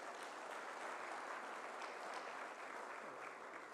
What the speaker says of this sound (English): I want us to give a heavy clap to our foreign friends